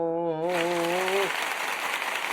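A voice holds a brief drawn-out sound, then a short burst of light clapping follows from a small group on a hockey-themed trivia show set, fairly quiet and fading as it continues.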